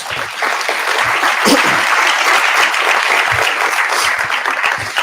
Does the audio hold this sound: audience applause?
yes